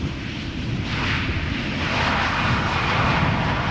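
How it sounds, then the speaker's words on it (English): A KLM Boeing 737 lands on the Polderbaan runway at Amsterdam Schiphol, its engines making a steady, loud broadband roar that swells slightly and holds throughout, with no talk. "Chopped in half by the tail of a KLM 737 that landed here on Polderbaan just now."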